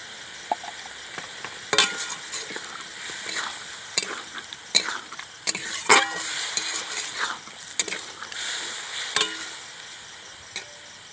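Aloo dum potatoes stirred in a pan with chili powder and added water, a spoon scraping and clinking in irregular strokes over a steady close sizzle, with no talk.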